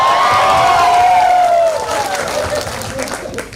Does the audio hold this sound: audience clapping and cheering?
yes